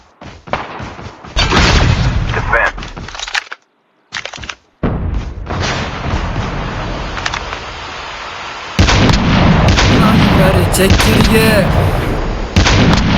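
Tank cannon fire in the mobile shooter Call of Duty Mobile, with heavy booming blasts and dense gunfire filling the clip, one brief silent gap, and a louder sustained stretch of battle noise near the end.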